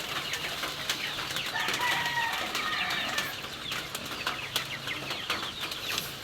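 Chickens cluck and birds chatter and call in a busy outdoor mix, with short chirps over steady wind-like noise during rainy, windy weather, no talking.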